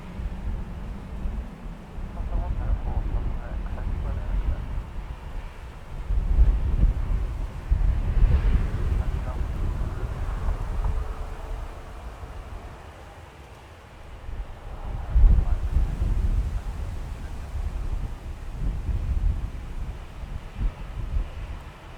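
Wind buffets across an open spot at Manchester Airport, a steady low roar rising and falling in gusts around eight and fifteen seconds, continuous throughout with no voices.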